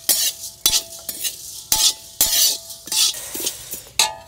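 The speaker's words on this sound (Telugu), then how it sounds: "ఇదంతా ఒక 2-3 నిమిషాలు ద్వారగా వేయించుకుందామండి" Spices and cumin are dry-roasted in a pan for homemade sambar powder, with a spatula scraping and stirring in quick, rhythmic strokes, about eight sharp scrapes with light clinks of metal, close and loud.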